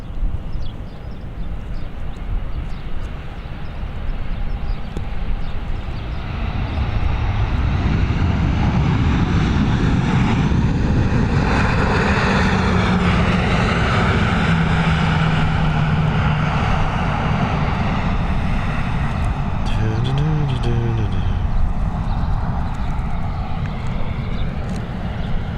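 An airliner takes off from a runway in Spain, its jet engine roar swelling from a distant whine to a loud, sustained rumble that fills the air, with a faint tonal siren-like warble late in the climb.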